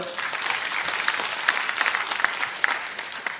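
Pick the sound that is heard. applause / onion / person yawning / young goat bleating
applause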